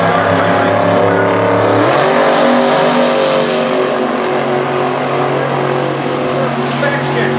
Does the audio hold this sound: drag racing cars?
yes